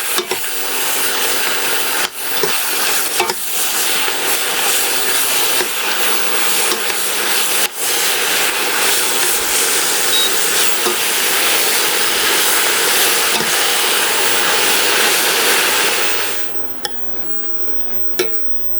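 Leafy vegetables fry in a pan after a sprinkle of salt and a flip, giving a steady, close hiss of steam and sizzle with a few sharp clicks, cutting off abruptly near the end.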